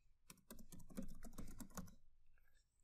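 An email domain typed on a computer keyboard: a quick, steady run of close key clicks lasting about a second and a half, then silence.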